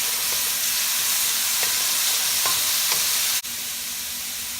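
Garlic sizzles in a hot pan for a squid and tofu stir fry, a loud continuous frying hiss with a few faint stirring scrapes and one sharp knock near the end.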